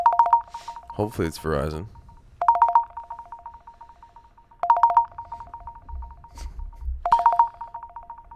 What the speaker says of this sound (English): We got a call.